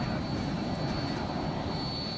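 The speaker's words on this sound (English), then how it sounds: "Despite the fog, John finally gets the all clear to land." Private corporate jet landing in fog in New York, a steady roaring engine rumble with a thin high whine, continuous and fairly loud, no voices.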